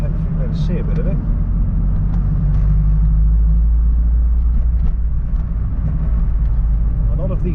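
A car drives around a town in England, its engine and tyre rumble a steady, loud low drone from inside the cabin, with a voice talking over it.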